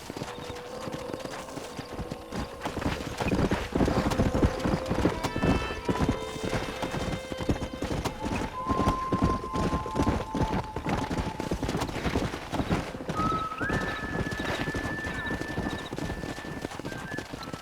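Rhythmic clip-clop of horse hooves with a whinny in Red Dead Redemption, over steady background music and ambient game sounds.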